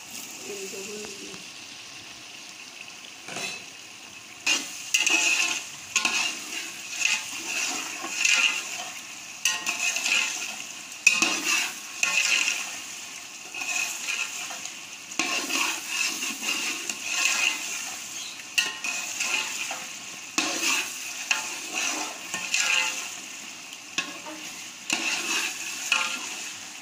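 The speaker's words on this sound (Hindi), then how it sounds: "ये उबले हुए चने जो है ना वो इसमें मैं डाल के थोड़ी देर इनको भून लूंगी" Boiled chickpeas sizzle and rattle in a hot pan as they are stirred repeatedly, with scraping and crackling throughout and a brief voice near the start.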